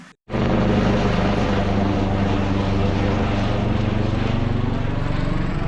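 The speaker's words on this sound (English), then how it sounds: "Then this helicopter flew over to a fatal car accident just 1 kilometre away from us." A loud, steady helicopter roar with a dense rotor chop, sustained and close overhead after a brief quiet start.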